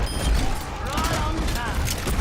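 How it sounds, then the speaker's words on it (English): Junkrat's frag grenade launcher firing in the Overwatch video game, with mechanical clunks and bursts of blasts set in dense, continuous game audio. "His main weapon is a frag grenade launcher"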